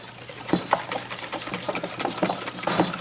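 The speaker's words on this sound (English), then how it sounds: "Can I get a turn whisking?" A sugar mixture whisked in a bowl, rapid uneven scraping and clicking strokes at close range, continuous for a few seconds with no talking.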